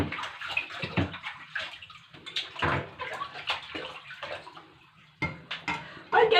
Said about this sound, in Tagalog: ilagay na natin sa dish rack. Okay. Para tumulo ang tubig.